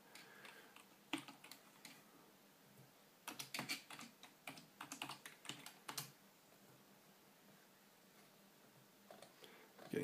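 Keyboard typing on a PIPO X7 mini PC setup, bursts of quick close key clicks with pauses between them, fairly quiet and with no talk.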